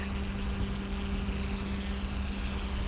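A model helicopter flying in idle up mode, giving a constant close, dense whine and rotor buzz with a steady tonal hum, unbroken throughout and with no talking.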